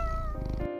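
A tiny rescued kitten gives a short, close meow, a single bright drawn-out cry that cuts off abruptly with no talk over it.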